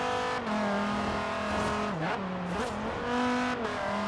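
The 8.4-litre V10 of a Dodge Viper in Forza Horizon 3 roars loud and close, its pitch wavering through several quick shifts and lifts, with faint tyre squeal mixed in.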